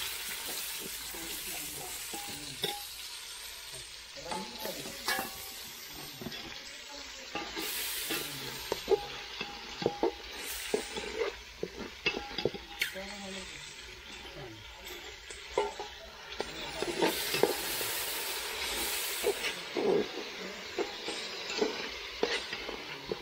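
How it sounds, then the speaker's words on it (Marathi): Peeled black beans frying for masala rice in a pan over a wood-fired stove, with steady sizzling and repeated scraping stirs that grow louder and more frequent later on. "हलवून घेऊया मस्तपैकी."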